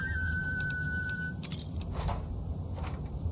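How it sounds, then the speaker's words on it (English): A Mr. Gutsy robot in Fallout: New Vegas lets out a sustained whistle, a steady mid-pitched tone held for over a second, followed by clinks and game ambience. "Is that the Mr. Gutsy whistling at me?"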